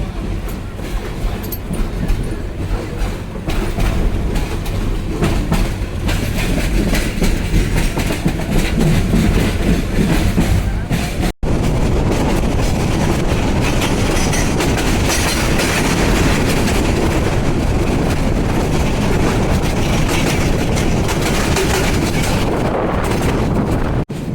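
Interior of a Parabat Express coach rolling out of Dhaka Airport railway station toward Tongi, a loud, steady rumble with rhythmic clickety-clack of wheels and wind noise, continuing throughout with a brief dropout near the middle.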